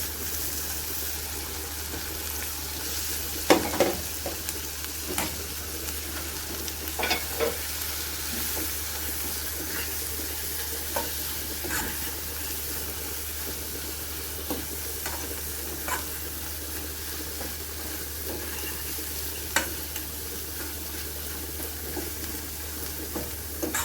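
Corned beef fries in a pot for curry corned beef, a steady hissing sizzle over a low hum, punctuated by occasional spoon scrapes and clinks as it is stirred, with no talk.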